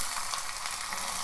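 Onions sizzling in hot oil with tempering seeds: a steady, hissing fry that stays constant and close throughout, with no voices.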